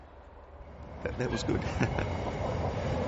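A quiet passenger train runs along a rail line, a low steady rumble with faint clicks that grows slightly louder partway through, while a person talks over it.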